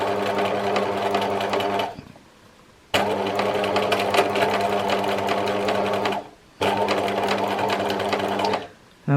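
A domestic sewing machine runs free motion embroidery with zigzag stitching on a memorial quilt, three loud steady motor runs broken by two short pauses, close and alone.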